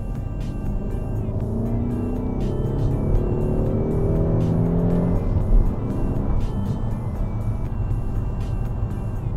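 Peugeot 308 GTi engine accelerating hard in third gear, heard from inside the cabin: a steady loud drone with rising engine pitch over continuous road rumble.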